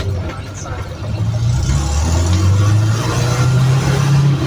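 A Suzuki Carry car engine rumbles nearby, its pitch climbing as the throttle is pressed and held at a raised revving drone.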